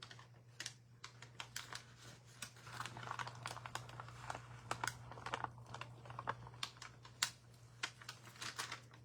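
Paint layer peeled slowly off a craft sheet, giving a run of close, dry crackling and sticky crinkling ticks with no talk over a steady low hum.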